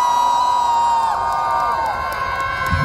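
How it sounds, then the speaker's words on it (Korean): A large crowd at an outdoor national Saemaul leaders' convention shouts and cheers loudly and continuously, with high sustained screams and whoops over a dense roar. "즐거우신 분들만 우리 큰 소리로 함성 한번 질러볼까요?"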